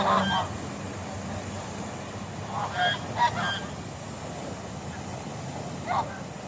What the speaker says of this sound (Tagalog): ang ganda tingnan yung mga pato naliligo sa lake